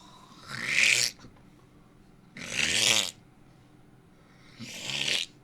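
Three slow, breathy snores from the video game Tales of the Forgotten Mirror, spaced a couple of seconds apart, each a rising rasp with quiet gaps between, close and fairly soft.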